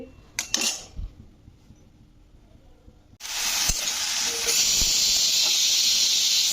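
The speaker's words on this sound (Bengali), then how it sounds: "শাক ভাজাটা বসিয়ে দিলাম" Water spinach greens drop into a hot pan and burst into a loud, steady sizzle and hiss that continues alone after a few earlier clinks and knocks of utensils.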